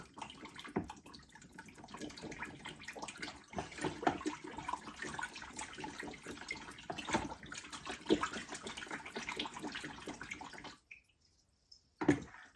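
A steady stream of water pouring into a mead fermenting vessel for several seconds, close and continuous, then stopping with a short splash at the end.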